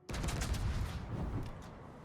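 World of Warships naval gunfire: a ship's turrets unleash a heavy salvo that hits abruptly and rolls on as one dense, loud, booming rumble for about two seconds.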